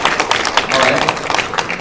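An audience clapping in a room at a 2018 student event, a dense patter of hands in bursts under voices calling out over the top.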